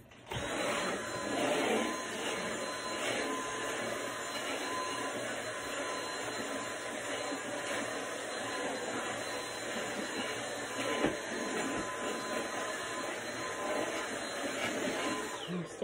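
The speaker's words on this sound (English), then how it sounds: "Let me vacuum it up there" A vacuum cleaner runs steadily throughout, a loud continuous whine and roar with slight shifts in pitch as it moves, no voices.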